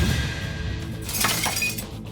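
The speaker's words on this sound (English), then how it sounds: "And eventually, it's going to break the window. It's just going to shatter." Window glass shattering in a house, a brief, bright crashing burst of breaking shards over a constant noisy background.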